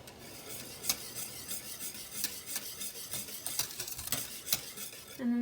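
A ceremonial cacao drink is stirred as it cooks at a boil, with a rhythmic scraping and clinking of a spoon against the pot over a soft bubbling hiss, close and continuous.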